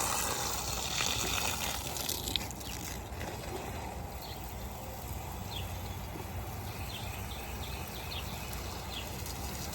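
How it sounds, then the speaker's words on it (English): Garden plants are watered outdoors with a steady, moderately quiet hiss and patter of water that runs on without pause. "Watering is constant when you're gardening."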